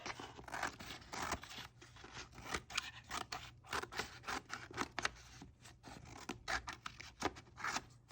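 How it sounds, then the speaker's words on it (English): Scissors snip through paper in a quick, steady series of soft crisp cuts, close up and quiet, with no talking. "You can use your scissors, cut your extra off."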